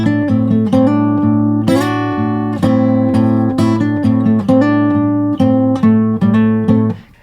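Blues guitar call-and-response phrases played in context, loud and close, driving repeated picked notes and slides over a ringing low drone, ending with a fade after about seven seconds.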